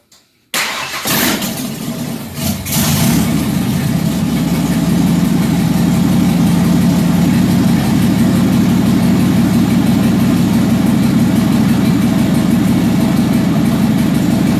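A 1994 Ford Ranger with the 4.0 engine and open Pacesetter headers fires up, then settles into a loud, steady, raspy idle with an uneven rumbling pulse, close to the microphone and without any talking.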